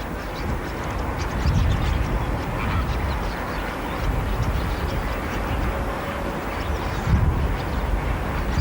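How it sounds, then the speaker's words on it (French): Water birds on the shallow lakes of the Rift Valley floor call in a dense, continuous chorus of honks and quacks, with a few louder calls standing out from the steady outdoor background. "Ces lacs sont peuplés d'oiseaux et tapissent le fond de la vallée du Rift."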